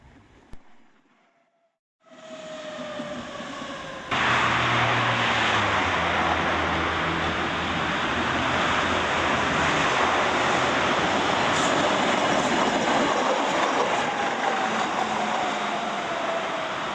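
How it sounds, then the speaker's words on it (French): A tram rides through Budapest across the Danube, first quiet, then a loud steady rumble of wheels on rails with hissing noise and a sliding tone as it picks up speed. "c'est en tramway, moyen de transport incontournable dans cette ville de Budapest, que nous allons traverser le Danube"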